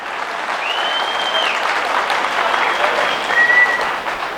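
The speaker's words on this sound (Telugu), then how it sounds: "చప్పట్లు కొట్టండి అయ్యా." An indoor audience at a health talk applauds in a sustained burst of clapping that lasts several seconds, loud and fairly even, with a faint whistle-like tone drifting over it.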